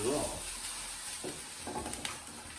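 Lemon chicken pieces fry in a wok on the stove, making a soft, steady sizzle with a few faint clinks, fairly quiet throughout.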